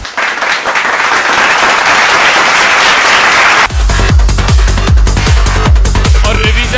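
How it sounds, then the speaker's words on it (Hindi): Loud audience applause at a training session, dense clapping that cuts off sharply partway through and gives way to steady rhythmic clapping in unison. "जोरदार तालियां हो जाएं।"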